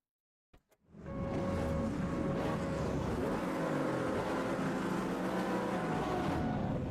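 A full grid of GT3 race cars at Alton Park in the racing game Automobilista 2: after a couple of faint clicks, many engines roar to life and hold a loud, steady, layered drone.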